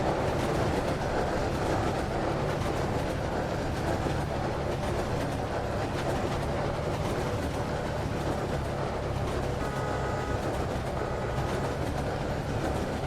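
A train in the Roblox game Greenville rolls along its tracks with a steady, continuous rumble and faint clickety-clack, holding even and fairly loud for the whole stretch with no talking.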